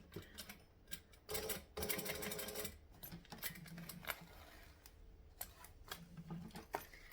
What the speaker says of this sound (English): So I'm stitching it about 1/4 of an inch from the edge.